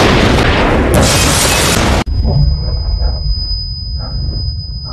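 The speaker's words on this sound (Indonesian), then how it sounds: "Frank yang menyadari Morgan ternyata berniat membunuhnya dengan paket berisi peledak" A package bomb in a film explodes with a huge roaring blast that fills the first two seconds, cuts off abruptly, and gives way to a quieter rumbling aftermath with a thin high ringing tone.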